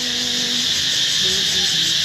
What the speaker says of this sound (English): They're all these, but they're like grasshoppers, but they're not grasshoppers.